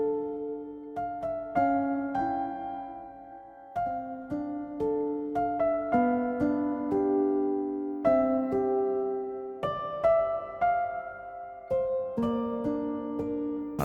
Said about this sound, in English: Felt piano, absolutely one of the belting sounds in here.